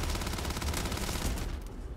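A gun firing in the video game Starfield: a dense, continuous burst of rapid gunfire, loud and close, easing off toward the end.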